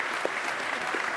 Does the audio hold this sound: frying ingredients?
no